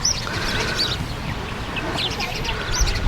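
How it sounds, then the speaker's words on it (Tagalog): Birds chirping outdoors on a farm in Al Kharj, Saudi Arabia, scattered high calls over a steady wash of wind and low rumble, some duck-like quacks mixed in. "Yung huni pa ng ibon, no?"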